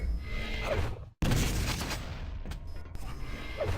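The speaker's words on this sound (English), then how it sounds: "that's a really easy rail shot that I just missed there" Railgun shot in the video game Quake Live, part of a loud sequence of sharp weapon blasts and rushing bursts of game combat, broken by a brief moment of silence.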